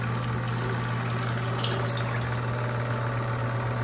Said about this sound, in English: as I add pressure, you'll hear the pump start to bear down a little bit.